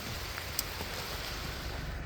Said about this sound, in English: we've got a lot of rain. It hasn't been stopping at all.